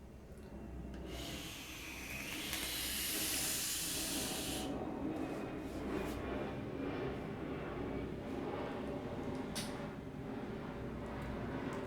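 A twisted Kanthal coil on a Dark Horse Mini RDA fires at about 94 watts, giving a loud, close, bright hissing sizzle for roughly four seconds before it settles into a softer rushing noise.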